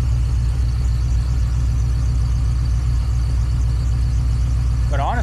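Car engine with a newly installed Jackpot TBI throttle-body injection idling steadily just after first startup, a loud, even low rumble throughout, with a short voice at the very end.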